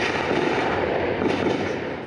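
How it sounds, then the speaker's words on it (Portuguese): Gunfire from a night shootout in the São Carlos area rolls on as a continuous, dense wash of distant shots and rumble, loud and unbroken with no talking. "No início da noite de ontem, o tiroteio recomeçou, dessa vez no São Carlos."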